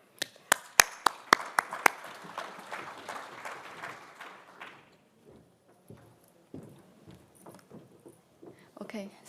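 Audience applause welcoming Professor Nan Chi to a general lecture at the URSI AP-RASC 2025 conference, loud, dense clapping at first with sharp individual claps, thinning out and fading by the middle, then low room noise and rustling.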